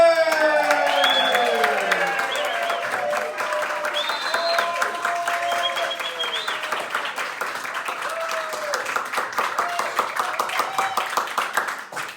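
A crowd bursts into loud applause with cheers and whoops, clapping rolling on steadily for several seconds.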